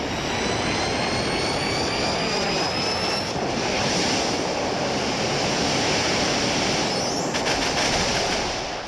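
Growlithe unleashes the Inferno Overdrive supercharged flame attack in Pokémon Sun and Moon, a loud, sustained roaring whoosh like a jet engine with high whining tones layered over it, steady for several seconds.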